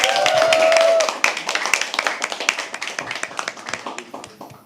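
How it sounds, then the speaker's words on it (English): An audience at a live poetry open mic at The Habitat claps, starting as a dense burst and thinning into scattered, fading claps over a few seconds. "Can we please have another round of applause for"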